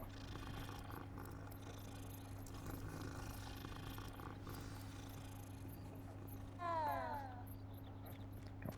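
A cat purrs softly in Hogwarts Legacy as a steady low rumble under a constant ambient hum, with a brief, louder chirping call near the end.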